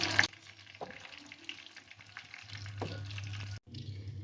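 Creamy, cheesy half moon pies frying in hot oil, a steady close sizzle with a few brief clinks of stirring and turning, no voices.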